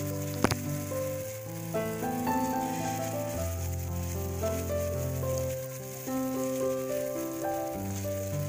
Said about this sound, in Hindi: तवा गर्म होने के बाद हम इसमें मिक्सचर डालेंगे जो मैंने तैयार करके रखा था